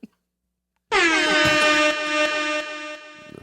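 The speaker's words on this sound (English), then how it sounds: "Air horns." A loud air horn blast starts after a short pause and holds for about two and a half seconds, with a bright, brassy, sustained tone that dips slightly in level near the end.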